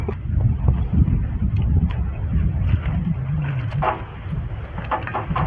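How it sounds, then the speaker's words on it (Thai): Strong wind gusting hard against the microphone outdoors, a loud, steady low roar with buffeting that continues throughout, with no talking. "ลมแรงมากๆ"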